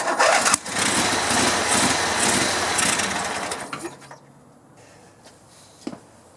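A riding lawn mower engine cranks loudly and roughly for about three seconds while failing to start, then cuts off, leaving near quiet with a few small clicks and knocks.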